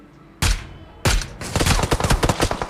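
An MG3 machine gun fires in the battle royale game BGMI, with two sharp close shots followed by a rapid, rattling burst of fire that runs to the end.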